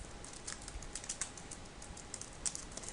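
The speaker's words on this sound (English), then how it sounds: "I will just start typing my text." Steady, quick typing on a computer keyboard, a run of light clicky keystrokes at an even pace, fairly quiet and close, with no talking.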